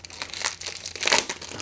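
A plastic bag crinkles and rustles in close, irregular bursts during the unboxing of the High Frontier 4 All board game, growing louder near the middle before settling.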